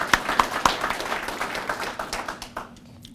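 A short burst of applause from a crowd, a few sharp claps at first, then scattered clapping that fades out.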